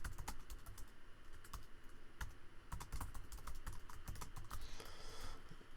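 Close, fast typing on a computer keyboard, with irregular clusters of key clicks running throughout over low background noise.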